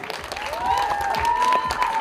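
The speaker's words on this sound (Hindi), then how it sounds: "जोरदार ताली होनी चाहिए डायरेक्टर अनुराग सिंह के लिए।" An audience applauds at a grand teaser launch event for the film Border 2, a steady burst of clapping from a large crowd with a short rising whistle above it.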